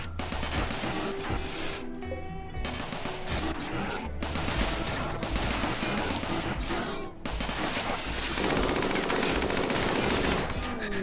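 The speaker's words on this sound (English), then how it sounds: "The minigun did more damage to his friends than anybody else" Minigun firing in the video game Rimworld, dense rapid bursts of automatic gunfire rattling almost continuously, loud and sustained with a brief pause partway through, no talking over it.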